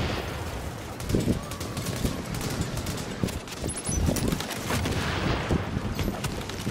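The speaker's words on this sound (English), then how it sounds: "What the fuck is he shooting at now?" Video game gunfire: a string of rapid, irregular shots and bursts at moderate loudness, spread across the whole stretch with a few louder cracks standing out.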